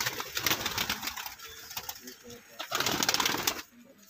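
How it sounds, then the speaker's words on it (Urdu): Pet pigeons cooing and fluttering as they come out of their loft, with bursts of wing flaps and soft coos; someone talks over them at moderate distance. "یہ سب کبوتر باہر نکل گئے ہیں زیادہ تر"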